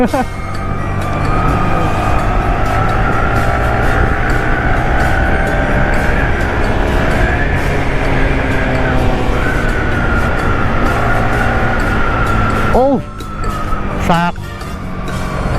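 A Yamaha R15 motorcycle ridden along a road, its engine a steady loud drone with wind rush throughout, joined near the end by passing traffic and a brief horn-like tone.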